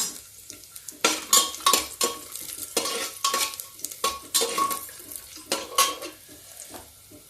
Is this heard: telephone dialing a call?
no